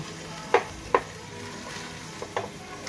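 Pork browning in a cooking pot, a low steady sizzle with a handful of sharp utensil knocks and scrapes spaced across a few seconds.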